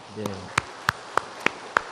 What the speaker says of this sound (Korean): 하나님께 우리 감사의 박수를 한번 올려드리도록 하겠습니다